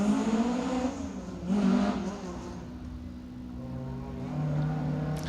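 A Peugeot 306 rally car runs on an asphalt stage of the Manx Rally on the Isle of Man, its engine note rising and falling in a steady, moderately loud drone with a couple of swells.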